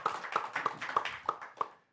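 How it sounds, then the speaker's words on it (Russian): Audience applause at an evening show in Gomel, heard as a sparse run of sharp, evenly spaced claps, close and fairly loud, alone and fading out near the end. "эти аплодисменты вам"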